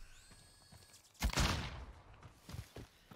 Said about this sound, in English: We hear the gunshots.